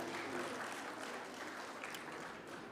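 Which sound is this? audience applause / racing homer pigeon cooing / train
audience applause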